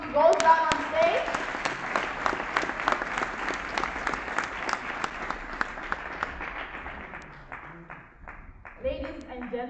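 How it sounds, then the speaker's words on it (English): An audience at the Legae Academy Award Ceremony 2022 claps in loud, dense applause that slowly thins and fades, with a voice speaking briefly at the start and end. "Another round of applause as he goes down on stage"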